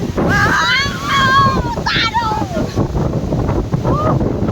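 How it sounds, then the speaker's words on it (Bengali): Strong gusting wind during a storm, loud and steady against the microphone with rushing noise throughout, while people talk over it. "এই খুব জোরে হাওয়া হচ্ছে"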